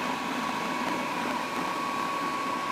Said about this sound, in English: Hairdryer running on a battery